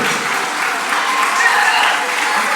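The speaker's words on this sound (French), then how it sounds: "On les applaudit très fort, mesdames, messieurs." Steady, dense applause from a school event audience cheering a children's choir, loud and continuous throughout with no gaps.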